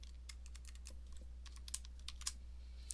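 Quiet, quick typing on a computer keyboard, a steady patter of light key clicks with a few sharper taps, alone over a low hum.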